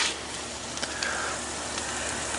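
Food sizzles and crackles steadily in a hot Dutch oven, a continuous bright hiss with occasional pops, no voices.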